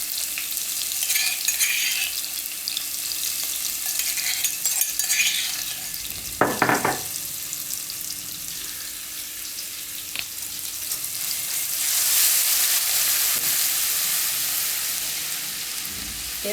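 Cumin and garlic frying in hot oil in a pan produce a steady close sizzle, with a brief scrape of a spoon stirring partway through and the hiss swelling again later.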